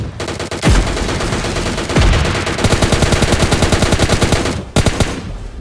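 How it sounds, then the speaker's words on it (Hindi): Continuous gunfire in PUBG Mobile Lite, loud rapid automatic bursts with a few heavier single booms, the rattling shots running almost without pause and stopping briefly near the end. "लगातार गोलियां चलाया जा रहा था"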